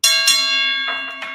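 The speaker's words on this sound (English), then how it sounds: "Hit the Ali bell" A bell sound effect rings out loud and close, struck twice in quick succession with a bright metallic tone, then struck again with the tone sustaining and slowly fading throughout, no talking heard.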